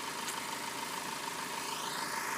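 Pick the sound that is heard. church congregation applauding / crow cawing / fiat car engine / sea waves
fiat car engine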